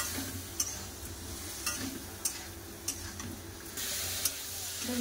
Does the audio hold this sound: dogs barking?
no